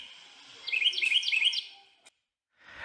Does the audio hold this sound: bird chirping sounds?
yes